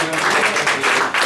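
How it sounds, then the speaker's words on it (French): Cabaret audience applause, a brief burst of fairly loud clapping with a few bright individual claps near the end. "Encore un tonnerre d'applaudissements, s'il vous plaît, pour Tionesca et Léa Rock"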